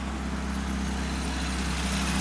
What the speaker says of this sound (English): It's idling really high, so I'm gonna go and adjust that idle real quick.